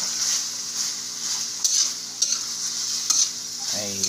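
Pork liempo sautéing in a pan, a steady loud sizzle with a spoon stirring and occasional sharp scrapes and clinks against the pan, close up and without talk.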